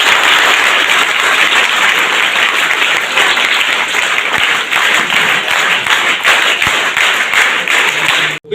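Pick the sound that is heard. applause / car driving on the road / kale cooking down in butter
applause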